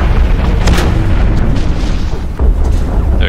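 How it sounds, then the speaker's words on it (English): A bomb blast in the mech combat game Hawken, a loud, sustained rumbling boom that fills the whole moment with dense low-end roar and crackling debris. "And then I just dropped a bomb on accident."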